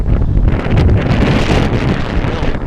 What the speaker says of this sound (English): Really starting to pick up now. A big gust coming through.